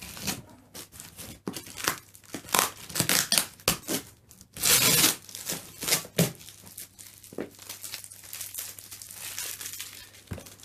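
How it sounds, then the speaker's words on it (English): Scissors snipping open a delivered parcel holding a BBC Master 128 computer: close, sharp repeated cuts mixed with crinkling and tearing of packaging, uneven bursts with pauses between. "Get the trusted scissors."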